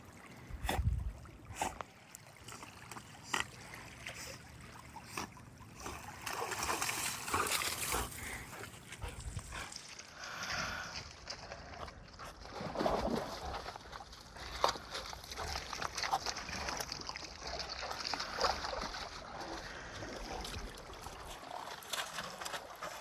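A dog named Kenzie swims and splashes near a small island in Alaska, with irregular splashes and watery sloshing, moderately close and fairly quiet, continuing for a long stretch.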